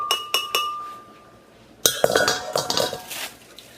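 A cup of hard Brazil nuts is poured into a blender jar, a few sharp clinks followed by a dense clattering rattle against glass, close and fairly loud with no talking.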